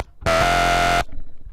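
A bright, buzzy synth squeal patch made in Massive, modeled on a track, blares for under a second, loud and sustained, then cuts off abruptly.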